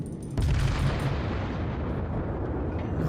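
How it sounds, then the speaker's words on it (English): Battleship main guns firing in the World of Warships game, Japanese tier V Kongō, a heavy booming blast that opens into a sustained low rumble, loud and close, with no speech. "I'm trying to get these guns around so I can lay some fire onto this guy"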